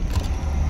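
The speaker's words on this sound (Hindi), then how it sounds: "ट्रैफिक है इधर," Road traffic in Genting, Malaysia, a steady low rumble of passing vehicles, close and continuous through the brief moment, with no voices over it.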